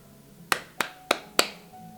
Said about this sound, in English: And this is how we would clap